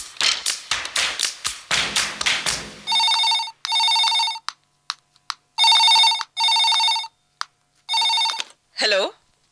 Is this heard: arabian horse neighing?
no